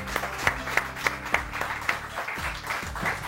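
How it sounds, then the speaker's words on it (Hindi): A TV studio audience claps on a morning talk show, a brisk burst of applause with sharp, regular clap peaks that continues steadily for the whole few seconds without speech. "बहुत सारी तालियां"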